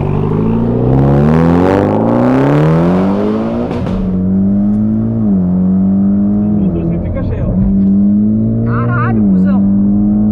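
A Mitsubishi Lancer Evolution X engine revs hard on a São Paulo street, rising and falling in pitch over ten seconds, loud and close, with voices talking over it.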